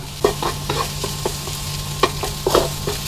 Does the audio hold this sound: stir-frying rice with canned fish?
yes